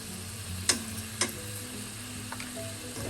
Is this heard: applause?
no